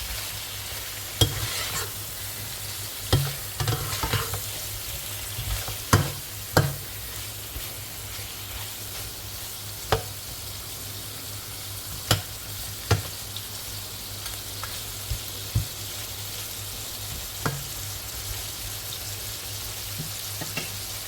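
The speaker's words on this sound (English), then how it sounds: "I'm just frying the ribs for about 15 minutes" Pork ribs browning in a single pan, a steady sizzle of frying running throughout while a utensil scrapes and stirs in sharp, irregular knocks, close and alone with no talk.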